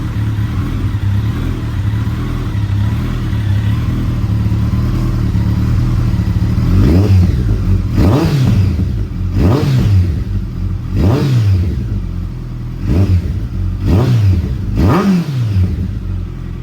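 A 2022 Kawasaki ZX14R with an aftermarket exhaust idles with a deep rumble, then gets revved six times in quick succession, each blip rising and falling sharply, loud and close.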